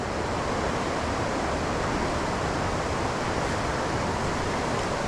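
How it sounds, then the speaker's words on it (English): Water roars over rocks in a stream below a run of about three small falls, a loud, dense, unbroken rushing wash that holds steady throughout, with no voices. "that's why you hear all the roar of the water."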